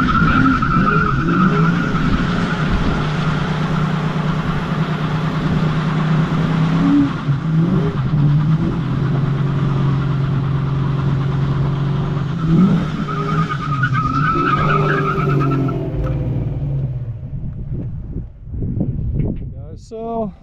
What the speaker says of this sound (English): I had both tires laying, laying some rubber down here